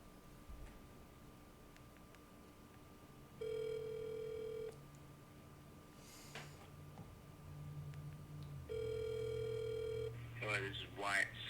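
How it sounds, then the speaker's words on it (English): Telephone dial tones and touch-tone dialing to place a call, two steady tone blocks separated by brief key beeps, with a faint ring pattern and talk near the end; moderate level over background hum. "Gotta make a phone call real quick."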